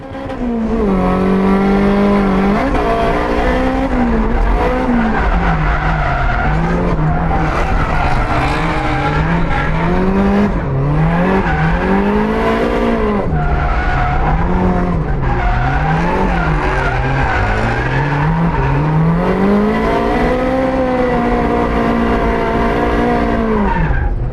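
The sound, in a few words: turbo Toyota AE86 drifting in tandem, tire squeal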